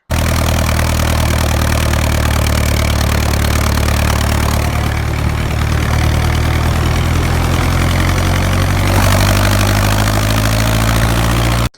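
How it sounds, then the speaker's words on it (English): A Fortune inline four-cylinder diesel engine fitted with a Sims fuel pump runs steadily at close range on a machinery tour, its loud, continuous idling drone unbroken for the whole stretch, with a slight shift in tone near the end. "so that is the inline 4 diesel. I think it was a Fortune engine."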